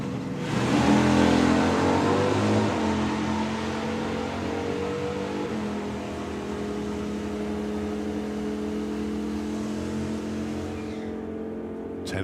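At the Mopar Euro Nationals, a drag racing car launches loud and close and accelerates down the strip, its engine rising in pitch through the gears. The roar stays strong for about ten seconds, then fades as the car pulls away.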